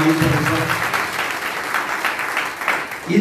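A church congregation claps loudly during a Sunday worship service in Madikonda, a dense, steady wash of hand claps through the whole stretch with some voices mixed in.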